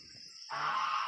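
Geese honking on a farm flock, a sudden loud burst of overlapping honks that starts halfway through and keeps going, after a quieter stretch with only faint low chatter.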